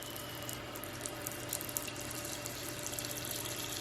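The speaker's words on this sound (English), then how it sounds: "Give her some fresh water." Fresh water trickles into a tarantula's enclosure, a quiet close pouring with small splashes and drips running steadily for a few seconds, no voices.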